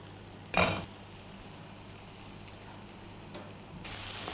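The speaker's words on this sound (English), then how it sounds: "I'm going to add some oil and roast them on high flame" Vegetables hit hot oil over a high flame with a sudden sharp sizzle burst that fades into a low, steady frying hiss, then swells into louder, continuous sizzling near the end.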